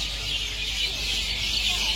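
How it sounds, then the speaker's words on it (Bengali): Many birds chirp and twitter by a ghat on the Ganga near Mayapur, forming a steady busy chorus over a constant outdoor hum. "আর এদিকে পাখিদের কলরব কিচিরমিচির চলছে"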